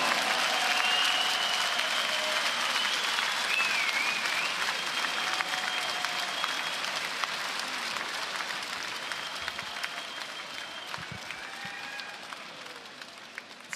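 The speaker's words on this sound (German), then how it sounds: "einen großen Applaus, big Applaus for both fighters on this evening" A crowd applauds both boxers at a professional boxing bout, with steady dense clapping that fills the hall and slowly fades over several seconds; faint tones and a little background noise sit under it.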